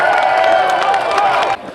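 A rally crowd cheers and applauds loudly and continuously, a dense wash of clapping and shouting that drops off abruptly near the end.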